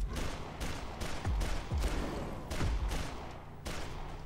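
Gunfire in the zombie game Dead Island Riptide comes as repeated heavy shots in a steady rhythm, roughly every half second, with low booming thumps over a constant dense background.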